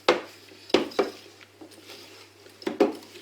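A utensil scrapes and knocks against a bowl while cake cream for a coffee-walnut cake is stirred, with several sharp clinks at uneven intervals over a quiet background.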